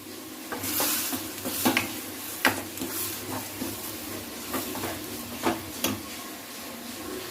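Oysters are stirred and fried in a pan with ground masala: a soft continuous sizzle broken by repeated sharp spoon-against-pan scrapes and clinks, close and fairly quiet, with no talking.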